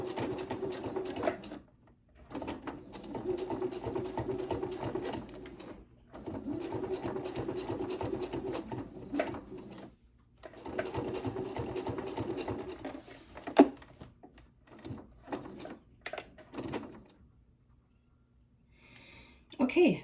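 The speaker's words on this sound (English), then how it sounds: "So I'll go ahead and sew this on." Sewing machine stitching Velcro onto a fabric coffee sleeve, quiet bursts of rapid whirring patter separated by pauses, with a few faint clicks and handling noises between runs.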